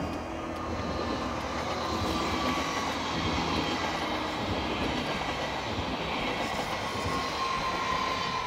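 Loud, steady rumble of a train rolling past nearby in Aarau, Switzerland, a continuous rushing roar with rattling wheels and a faint high squeal.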